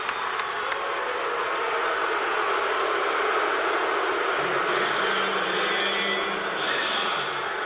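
Home crowd at a Texas Rangers versus Oakland Athletics baseball game roars and jeers the umpire, a loud, steady wash of stadium noise filling the whole stretch with no break.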